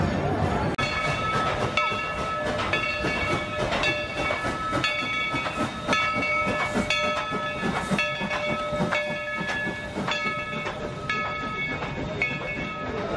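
The Dollywood Express train in the Smoky Mountains rumbles and clatters during a freezing Christmas-light ride, with sustained chiming horn or whistle tones ringing repeatedly over the continuous rail noise.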